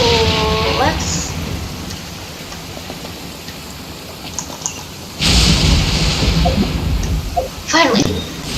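A thunderstorm in the video game Genshin Impact: steady rain on surfaces throughout, then a loud thunder crash rolls in midway and lingers, with short game chimes and voices over it.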